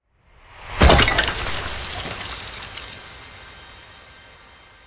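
A man turned to wood is smashed in the indie horror game Hypogeal, a loud crash of splintering and shattering followed by a long fading rumble and scattered debris.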